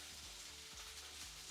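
Shrimp sizzle steadily in a hot pan, a constant close crackling hiss with a low hum underneath and no talking.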